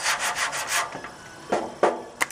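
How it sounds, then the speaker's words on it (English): Block sanding of body filler with 60 grit sandpaper on a dented car panel: rhythmic close rasping strokes, several quick passes followed by a few sharper, separated scrapes, no talking. "You want to sand in an excellent pattern when you go to do your filler work."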